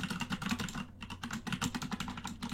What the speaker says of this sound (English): you're just gonna hear my keyboard go crazy now